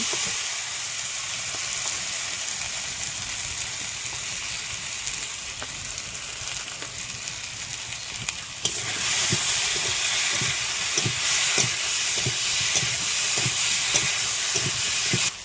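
Potatoes sauté in hot oil for a katla fish curry, a continuous loud sizzle and hiss that grows brighter partway through with faint rhythmic scraping of stirring, close and without speech.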